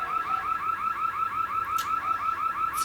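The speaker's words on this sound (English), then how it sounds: "there is a car alarm going off." A car alarm goes off outside with a steady, rapidly repeating warble, loud and continuous, with no voices over it.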